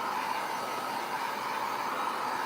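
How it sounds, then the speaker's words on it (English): A hair dryer blows steadily throughout, a loud continuous whooshing hum with an even airy roar and no breaks, close to the listener and alone without voices. "Sorry, I know the dryer is loud."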